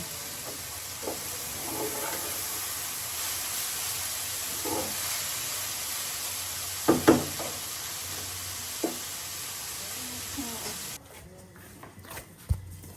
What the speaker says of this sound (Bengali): আর এদিকে ভাজি আছে চুলায়, পাতাকপি আর ফুলকপি আলু দিয়ে ভাজি হচ্ছে।